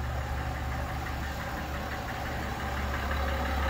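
A 2021 GMC Sierra AT4 with the 3.0 diesel engine runs at idle with a steady, loud, close diesel clatter and a deep rumble underneath.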